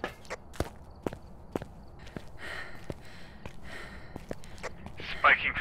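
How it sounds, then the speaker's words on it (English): Ghost footsteps in the Phasmophobia video game, a series of sharp, evenly spaced thuds walking close by, with a few heavier steps toward the end and soft breathy noises in between. "Footsteps, I hear footsteps."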